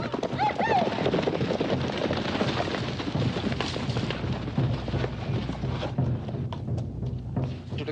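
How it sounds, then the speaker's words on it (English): Horses galloping in a Western film scene, with a dense, continuous clatter of hooves under loud crashing gunfire, shouting and a whinny, all close and busy throughout. "Get your saddle and horse."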